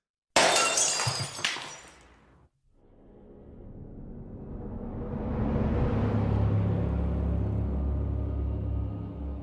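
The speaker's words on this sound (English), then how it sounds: "Break the glass." Glass shatters in a video game, a sharp bright crash with scattering shards at the start, then a rising rumbling roar that swells and holds steady behind it.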